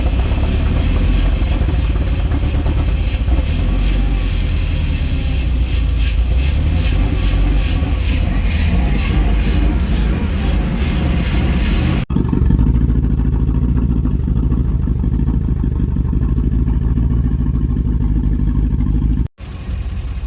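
A truck engine that was just restarted runs at a steady idle close by, a continuous rumbling clatter that cuts off abruptly near the end.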